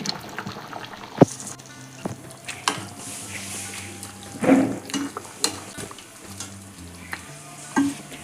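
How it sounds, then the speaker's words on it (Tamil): Country chicken curry with ground masala paste being stirred and turned in a pan, giving soft sizzling and wet scraping with a few sharp utensil knocks against the metal, fairly close and with no talking. "நல்லா பெரட்டி வச்சுக்கோங்க"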